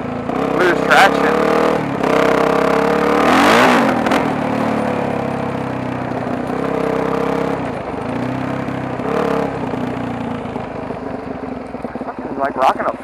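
Supermoto motorcycle engine throttling and revving on loose, soft ground at an abandoned golf course, a steady close engine drone with rises and falls, wind noise, and a rider talking over it.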